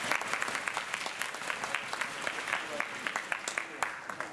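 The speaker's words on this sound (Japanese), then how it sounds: "立命館大学硬式野球部主将の宮崎選手を拍手でお願いします" Applause in a hall for a university baseball team captain at a pre-game rally, with steady, moderately loud clapping from a crowd and scattered sharper claps throughout.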